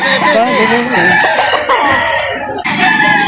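Rooster crowing at a chicken market in Lipa, Batangas, a loud, close, wavering crow over a dense background of other fowl clucking and crowing, with brief market chatter beneath.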